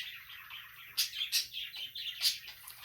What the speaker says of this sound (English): I'm so sorry about my birds.